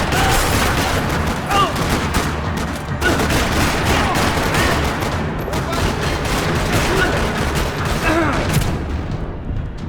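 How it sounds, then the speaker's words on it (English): Dense, continuous gunfire rattles through a parking lot shootout in the video game Max Payne 3, with overlapping rapid shots and booms filling the whole stretch. "Another parking lot rattling with gunfire."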